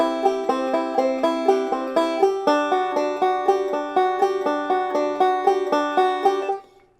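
Banjo plays a double roll, then shifts double stops up the neck in a steady, bright rolling pattern of plucked notes, loud and close, ringing out alone before fading at the end.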